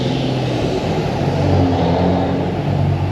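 A hot-rodded, modified 1995 Corvette with a Paxton supercharger and drag slicks gives off a loud, steady, deep engine rumble that holds without a break from start to finish.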